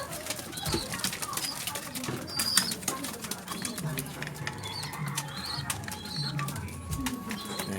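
Young pigeons drinking from a waterer, with bursts of wing flapping and soft cooing close by, while someone talks intermittently over the birds.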